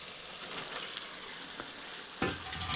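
Chicken pieces and spice masala frying in a pan for a spicy village-style chicken kosha curry, a continuous hiss and sizzle with stirring scrapes, flaring into a louder sizzle near the end as the mixture is turned.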